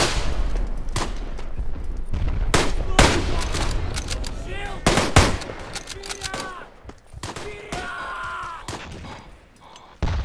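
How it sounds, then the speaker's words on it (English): Rapid bursts of machine-gun fire mixed with single gunshots ring out in a WWI battle in the game Tannenberg, sharp cracks repeating across the scene with some near and some farther off. "Oh, there's a machine gun up there"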